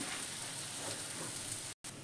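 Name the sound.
egg devil filling frying in pan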